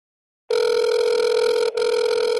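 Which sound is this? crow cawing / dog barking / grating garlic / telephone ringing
telephone ringing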